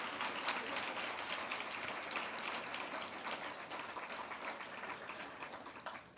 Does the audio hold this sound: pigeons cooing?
no